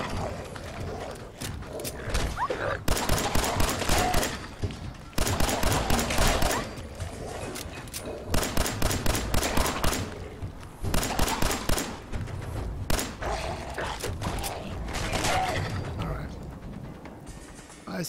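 Gunfire in the video game Fallout 4 comes in repeated rapid bursts, loud and close, with short gaps between volleys and mechanical clicks. A voice is faintly heard between shots.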